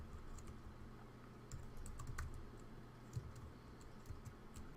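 Keys clatter steadily on a computer keyboard, a run of soft, quick clicks in an irregular rhythm, close and fairly quiet, with no talking over it.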